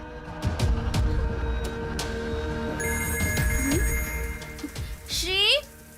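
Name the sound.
telephone ringing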